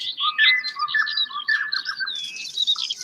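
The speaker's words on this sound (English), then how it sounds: "we got birds flying around" Outdoor birds squawking and chattering in a continuous, busy cluster of overlapping calls, moderately close, with no talking over them.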